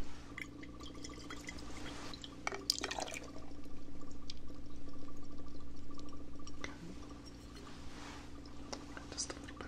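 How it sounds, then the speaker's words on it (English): Pure distilled water is poured to dilute a concentrated liquid: a soft, close, steady pour lasting about three seconds amid quiet whispering. "Just add some water. This is pure distilled water."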